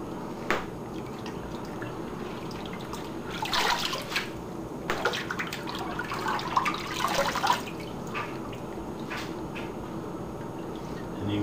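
Water splashes and sloshes in a sink in several bursts, with drips and trickles between them, close by and fairly loud.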